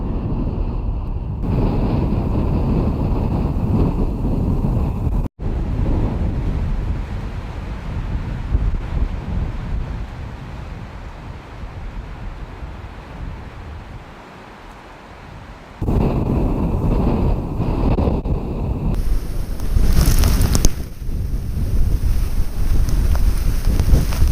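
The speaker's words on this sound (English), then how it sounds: "As you can see, it's very windy." Strong gusting wind buffets a GoPro Hero 7 with an external microphone in extreme weather outdoors, a loud continuous roar that briefly drops and surges with sharp gust peaks, no talking.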